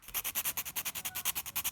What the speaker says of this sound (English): A little bit of sanding on the corners so nobody gets hurt.